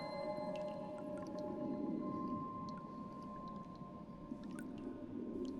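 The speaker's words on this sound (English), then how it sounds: "I recorded water sounds and processed them in Ableton Live with different effects" Processed water recordings for a mystical game cave ambience: a soft, continuous watery wash with low swirling tones, sparse drips and gurgles scattered on top, faint and even throughout.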